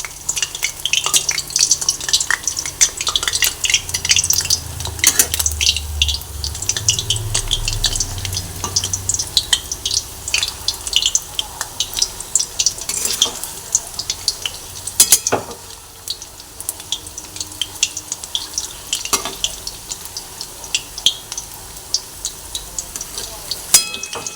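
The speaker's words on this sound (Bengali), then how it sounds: "গ্যাসের ফ্লেমটা মিডিয়ামে করে কোপ্পাগুলোকে সব সুন্দর করে ভেজে নিচ্ছি" Eggplant koftas fry in hot oil over a medium gas flame, giving a steady loud sizzle broken by sharp crackles and pops, with occasional clinks from turning the pieces.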